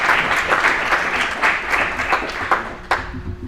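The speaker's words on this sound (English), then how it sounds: "Give him a round of applause because he's not getting paid for any of that." An audience at a city commission candidate forum breaks into sustained applause, a dense wash of many hands clapping that swells and slowly thins, with a few sharper claps near the end.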